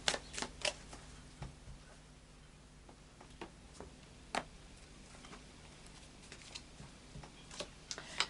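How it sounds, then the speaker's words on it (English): Soft, papery riffling of tarot cards in scattered bursts, with sharp taps and clicks between them against a quiet background hiss. "And a final shuffle of the Light Seers Tarot."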